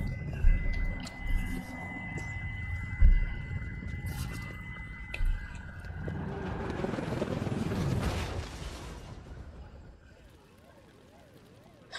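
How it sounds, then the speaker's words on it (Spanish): A helicopter from the video game Infamous Second Son whirs and rumbles through a busy in-game battle, rising to a sustained roar before fading, mixed with thuds and impacts under a speaking voice. "¿Me ha matado un helicóptero?"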